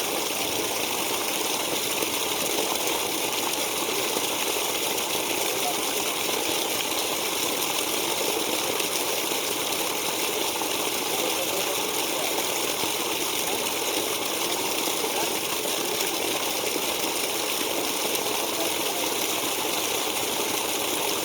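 Water from a tube well in Sabah, Malaysia gushes out in a steady, unbroken rush, loud and close, holding an even level throughout with a faint pump-like drone beneath and no voices.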